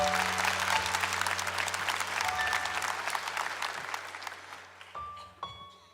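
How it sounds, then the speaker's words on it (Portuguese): A church congregation at a Catholic Mass claps loudly and densely, a sustained wall of applause that gradually fades toward the end, with a low hum underneath. "aplaude mais forte ainda nesse momento"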